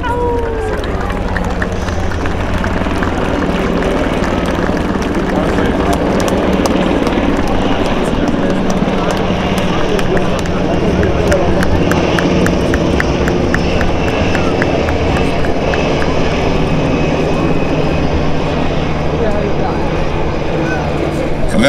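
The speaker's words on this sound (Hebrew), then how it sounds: "מסוק הינשוף הוא מסוק מבצעי בחיל האוויר" Yanshuf (Black Hawk) military helicopter passing over an Israel Air Force flight academy air show, a loud continuous engine and rotor roar filling the whole stretch with steady rumble and faint crowd babble beneath.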